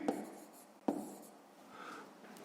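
Pen writing down a math solution by hand on paper, quiet close scratching with two sharp taps and a soft stroke toward the end.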